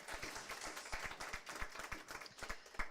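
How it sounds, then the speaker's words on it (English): An audience claps after a lecture on the ecology of nocturnal seabirds in the Vestmannaeyjar islands. The applause is steady, moderate and a little distant, with many hands clapping at once. "First we'll clap, right?"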